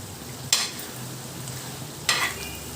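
Mutton fry being stirred in a pan after pepper is added, two sharp scrapes of a utensil against the pan over a soft, steady sizzle.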